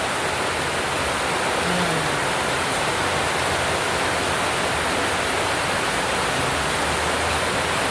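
Heavy rain pours steadily in a dense, unbroken hiss, loud and close throughout with no pauses.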